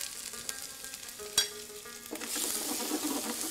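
Ginger garlic paste frying in a pan, a faint hiss that swells into a louder, denser sizzle partway through, with a single clink of the stirring utensil and no voices.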